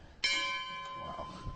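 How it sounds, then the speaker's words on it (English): A gong struck once to keep order at a formal debate, ringing with a sharp onset and a long sustained shimmering tone that slowly fades. "My secret weapon is this gong"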